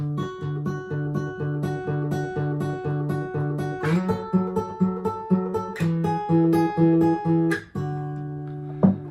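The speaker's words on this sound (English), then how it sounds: "There's a cool guitar part in the beginning that's played on an electric guitar" An electric guitar part from Hillsong's "So Will I", played by plucking with the fingers, clear notes picked in a repeating pattern with occasional chord changes, no voices.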